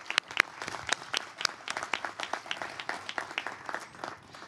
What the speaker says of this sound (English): Can we just get one more round of applause?